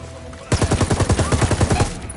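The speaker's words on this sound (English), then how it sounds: "Opening fire on these fuckers." Rapid automatic gunfire in Ghost Recon Wildlands while assaulting a cartel gold mine, a single burst of about a dozen evenly spaced loud shots lasting around a second and a half after a brief quiet lead-in.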